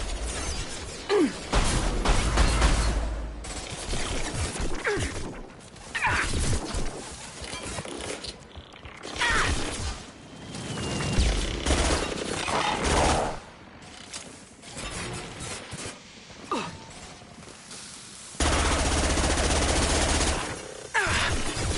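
Rapid gunfire in the sci-fi shooter game Mass Effect 2, with bursts of automatic fire and mechanical clicks repeating through a loud, busy battle mix, the weapons rattling in uneven waves over about twenty seconds.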